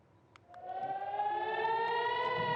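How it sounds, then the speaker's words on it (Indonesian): Civil defense air-raid siren wailing over the city of Nahariya during a Hezbollah rocket attack, starting after half a second and holding a loud, steady rising tone with layered harmonics, no voices. "Sirene pun terus berbunyi tanpa henti saat rudal memasuki langit kota Nahariyah"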